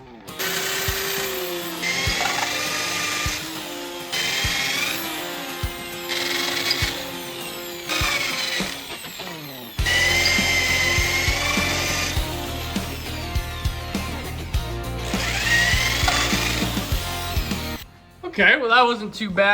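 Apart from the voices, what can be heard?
drilling out bolt holes in a motor block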